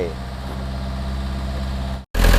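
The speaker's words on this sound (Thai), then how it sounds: "ตอนนี้ผมติดเครื่องอยู่นะครับ ติดเครื่องสาธิตการทำงานของรถคันนี้ให้ดู" A Yanmar B50 excavator's diesel engine idles with a steady low rumble, cutting out briefly near the end before resuming louder.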